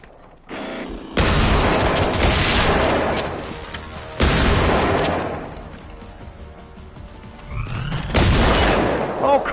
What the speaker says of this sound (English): I clearly shotgunned him in the face. With birdshot, yeah.